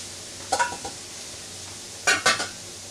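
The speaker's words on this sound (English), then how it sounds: "just keep stirring, because what we want to do here is we want to coat all the rice with the fat from the oil and the butter" Arborio rice is stirred in a pan with oil and butter for risotto: two short bursts of scraping and clinking against the pan over a faint background hiss.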